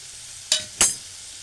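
Tomatoes cooking in a pan for a Konkan-style horse gram (kulith) amti, giving two short, sharp bursts of sizzling and stirring with a quiet gap between them.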